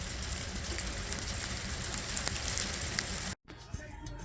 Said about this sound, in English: We're actually getting some hail.